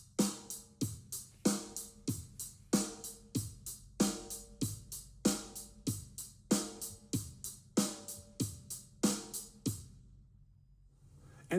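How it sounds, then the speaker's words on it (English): Drum kit playing a straight, rigid rock groove without ghost notes, with hard regular kick, snare and hi-hat hits in a steady repeating pattern, close and alone, ending with a short pause before a final hit. "a groove without ghost notes would sound like this"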